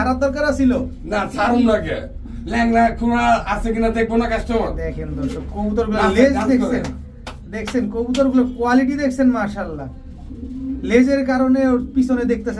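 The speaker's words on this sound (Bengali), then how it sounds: "একেবারে কোয়ালিটি সম্পন্ন কবুতর পায়ের ফেদার কবুতর আছে" Pigeons cooing at a stall selling fancy, racer and feather-footed pigeons: repeated low, throaty rolling coos close by in steady rhythmic phrases that keep going through the whole stretch.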